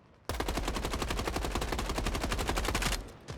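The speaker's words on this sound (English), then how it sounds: "That's the natural recoil on this gun." A video game gun fires in one long automatic burst. Rapid, evenly spaced loud shots run for nearly three seconds, then stop abruptly.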